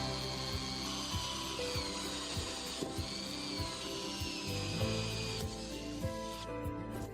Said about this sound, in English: Drill through the outer plate and the reinforced plate behind.